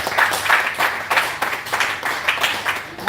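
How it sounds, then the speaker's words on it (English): Applause from the audience at a Nigerian Women For Agricultural Progress live gathering, a steady patter of clapping that rises and falls in waves over three seconds without pause. "I think we should give ourselves a round of applause."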